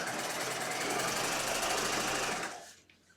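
A sewing machine runs continuously, stitching through all layers close beside the bias facing seam on a skirt hem, a steady loud whir that stops abruptly near the end.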